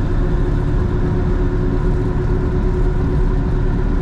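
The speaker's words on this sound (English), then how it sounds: "gonna be taking the Mustang on a short drive down the road" Six-cylinder engine of a 1965 Ford Mustang running steadily on a drive, a constant low rumble with a smooth drone, close and loud throughout with no talking.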